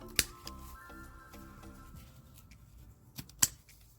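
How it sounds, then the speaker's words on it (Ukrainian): Pruning shears snip garden plant stems during autumn cleanup of flower beds, two crisp clicks at the start and end with quiet rustling between. "Тому також обрізаю його."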